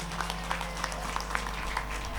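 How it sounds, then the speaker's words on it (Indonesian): Audience applause at a school project exhibition, a steady wash of clapping with scattered louder claps over a constant low hum, no talking. "Ayo beri tepuk tangan."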